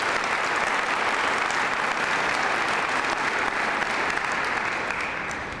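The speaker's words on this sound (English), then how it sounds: "If we could give them a round of applause." An audience at a county State of the County address gives officials a sustained, even round of applause that holds steady and begins to taper off at the end.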